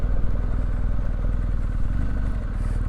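A 2020 BMW R1250GS motorcycle ridden off-road in Enduro mode gives a steady, close boxer-engine thrum with a rapid pulsing beat, loud and continuous and with no talk.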